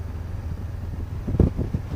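Steady wind buffets the microphone while riding a motorcycle on a road tour in Gran Canaria. The low rumbling gusts swell briefly near the end, with no talk.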